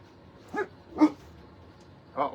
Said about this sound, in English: Uh-oh, there goes the dogs.